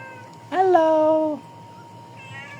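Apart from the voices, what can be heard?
cats meowing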